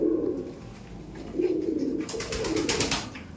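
Kabji pigeons at a loft coo in soft, low throaty bursts, a few repeated calls close by, with some brief rustling toward the end.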